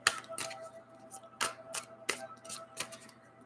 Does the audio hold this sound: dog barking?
no